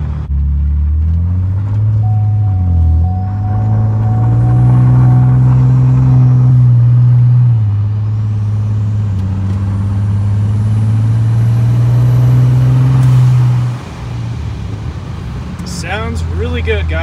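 A Ford F150 3.5 EcoBoost truck with Stage 5 upgraded turbos drives along with a loud, steady low engine drone that shifts pitch a few times as it accelerates, heard from close by.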